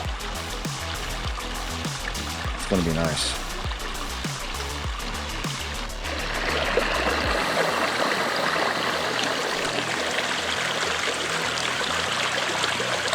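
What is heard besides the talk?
flowing mountain stream on the Tahoe Rim Trail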